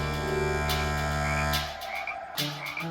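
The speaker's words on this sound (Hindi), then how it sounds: "आप मेंढक क्यों बन गई मम्मी?" Croaking frog sounds repeat in a steady series of close, loud calls, backed by a sustained musical drone, with no talking over them.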